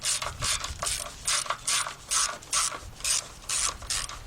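A ratchet wrench turning a bolt out while replacing the radiator on a Jaguar X-Type, with steady, evenly spaced clicking strokes close by and no talk.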